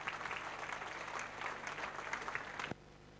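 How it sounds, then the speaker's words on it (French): Applause from the audience at a New Year's greetings ceremony for local councillors in the Compiègne-Nord canton, France, a steady dense clatter of many hands lasting nearly three seconds before stopping abruptly and leaving a quiet room. "je vous propose de les applaudir à nouveau."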